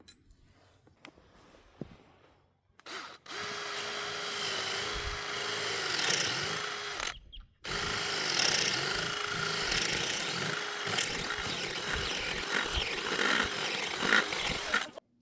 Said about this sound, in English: Do your best to drill your holes straight through or level